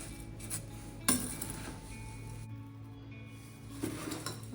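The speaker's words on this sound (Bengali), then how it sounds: "এগুলোকেও ভালো করে মিশিয়ে নিই" Jhalmuri ingredients being tossed together in a bowl for a winter evening snack, giving light clinks and rattles with one sharp knock near the start and a softer clatter toward the end.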